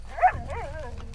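A dog barks once in the open-world game Red Dead Redemption 2, a short yelping bark followed by a falling whine, fairly close, over a low steady background rumble.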